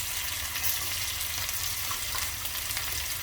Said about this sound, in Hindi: तो जैसे ही तेल गर्म होता है ये पेस्ट इसमें डाल देंगे।